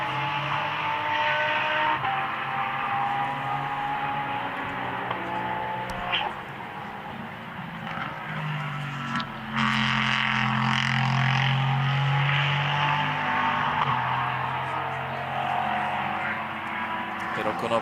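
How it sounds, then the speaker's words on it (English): Endurance race cars, including a Ligier, lap Slovakia Ring in a 60-minute race: engines roar and whine past in a continuous, rising and falling drone, with a commentator speaking over the sound. "Konopka enjoying nearly 3/4 of a minute, but of course in his Ligier he has very little competition"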